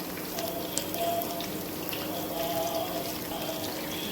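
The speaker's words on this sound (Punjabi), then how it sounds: "ਤਲਦੇ ਪਏ ਆ" Pumpkin koftas frying in hot oil, a steady soft sizzle and crackle with light bubbling, close and continuous with no talking.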